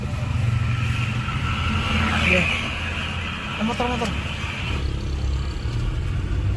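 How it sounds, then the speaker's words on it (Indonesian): Cars pass at night on Jalan Batur Dieng in Sumberjo, Dieng, their engine hum and tire whoosh rising and fading beneath close, nearly constant talking. "Terlihat masih banyak, masih ada mobil yang melintas gitu"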